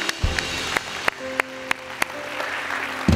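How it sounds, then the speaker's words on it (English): A small church congregation claps in praise, sparse individual hand claps spaced irregularly over a sustained organ-like tone, with a louder burst at the end. "let's give the Lord a hand clap of praise"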